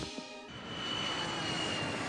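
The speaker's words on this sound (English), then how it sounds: "Peter is literally wearing Death's cloak, accidentally causing an airplane to crash" An airplane engine in a Family Guy cartoon scene swells into a steady, loud, dense roar after a brief quieter start, continuous and close with no voices.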